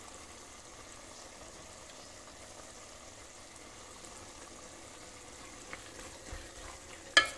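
Crushed garlic frying in a pan for tomato pickle gives a steady, faint sizzle throughout, with a few soft stirring clinks toward the end.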